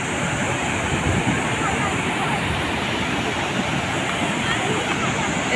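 Bhatinda waterfall near Dhanbad roars as a loud, constant broadband rush of falling water, heard up close and unbroken throughout.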